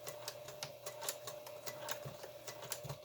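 Sewing machine tacking plastic and wire onto a face mask: a quick, even run of needle strikes with a steady mechanical hum underneath, close and moderately quiet.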